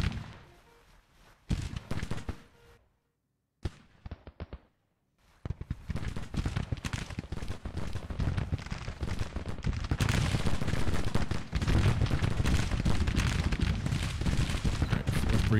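Civil War brigade musket fire in Grand Tactician: scattered crackling shots and brief silences give way to dense, rolling volleys of massed musketry that swell into a continuous loud roar of overlapping gunfire.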